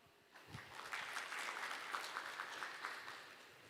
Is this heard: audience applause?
yes